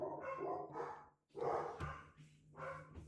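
A dog barks in several short bursts of two or three, close and fairly loud, with brief gaps between them.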